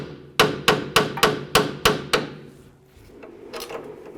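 Seven sharp, evenly spaced hammer taps on the CV axle fork of a 2008–2012 Honda Accord front passenger side, loud and close with ringing decay, then quieter handling noise.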